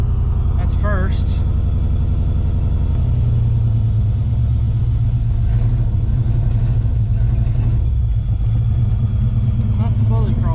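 A Fox Body Mustang that sat unused for over fifteen years, with no brakes and no belt, rolls off ramps in first gear while its engine keeps up a loud, steady, deep rumble under someone talking close by.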